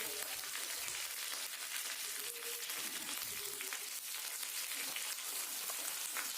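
Spicy masala-coated fish wrapped in banana leaf fries in a pan with a steady, dense sizzle and crackle, loud and continuous throughout, with no voices over it.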